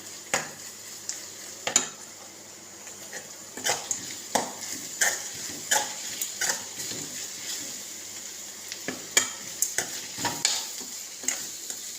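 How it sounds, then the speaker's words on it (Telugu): Ivy gourd pieces fry with a spice mixture in a pan, a low sizzle broken by sharp, irregular clinks and scrapes of a spatula against the pan, close and fairly quiet. "ఇలా ఫ్రై అయిన ముక్కల్లో మనము ఈ మిశ్రమాన్ని వేయాలి చూసారా ఇది బాగా వేయించుకోవాలి"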